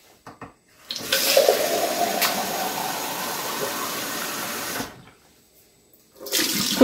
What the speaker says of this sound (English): I unscrew the top section and then I give it a quick rinse